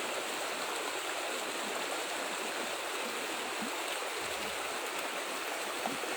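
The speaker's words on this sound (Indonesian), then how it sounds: "Kalau ini aliran air sungai, ini aliran lahar dingin." A river carrying cold lahar from Semeru volcano rushes past in a constant, loud, hissing roar, a broad, unbroken torrent of water and debris with no voices over it.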